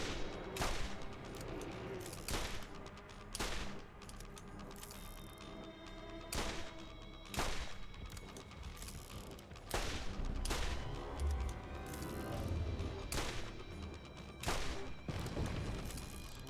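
Rapid gunfire in the Borderlands video game, with sharp repeated shot bursts spaced a second or two apart over a dense, steady bed of battle noise.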